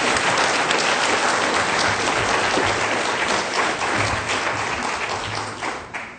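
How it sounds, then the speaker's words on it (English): A lecture audience applauds to welcome a speaker before a talk on human genetic modification: dense, continuous clapping from a large crowd, loud and steady throughout, tapering slightly at the end. "Please help me in giving a warm welcome to Dr. Richard Hayes"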